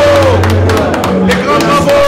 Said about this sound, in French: Que je demande à mes frères d'applaudir.